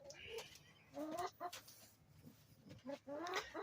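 Hens clucking while laying eggs in a small backyard coop, a series of close, rising cackles in short bursts separated by quiet gaps.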